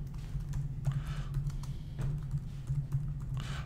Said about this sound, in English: So we'll type in World Languages in